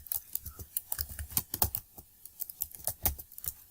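Rapid keystrokes on a computer keyboard while entering text in MS Word 2007, a close, quiet run of irregular sharp clicks with brief pauses, no voices.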